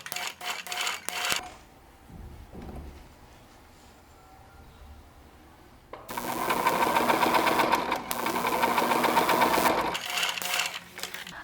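A sewing machine stitches bias tape onto fabric in two long bursts of steady, close mechanical whirring, separated by a quiet pause with light handling noise, then a few short stitching starts at the end.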